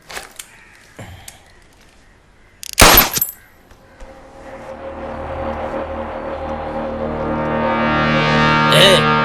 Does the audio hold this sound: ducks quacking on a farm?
no